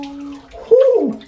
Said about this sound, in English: This is going to be cold. Rinsing with cold water.